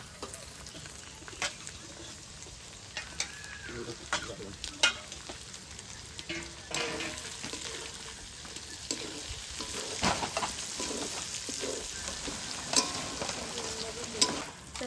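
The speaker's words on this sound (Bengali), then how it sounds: "এরপর আমি টমেটো দিচ্ছি টমেটোগুলোকে তেলের উপরে দিয়ে ভালোভাবে গলিয়ে নেব" Tomatoes fry in oil over ginger and cumin, a soft constant sizzle broken by the clatter and scrape of a spoon stirring the pan, fairly quiet and close throughout.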